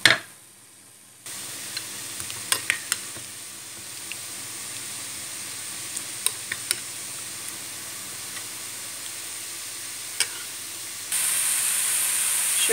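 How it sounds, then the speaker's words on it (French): Garlic and ginger frying in a pan for an oil-free vegan potato curry give a steady, faint hiss and sizzle throughout, with a few small crackles and a brief louder hiss near the end, and no talking. "Alors là, je viens d'ajouter une cuillère à soupe d'ail et de gingembre. Et je vais tout mélanger et bien griller."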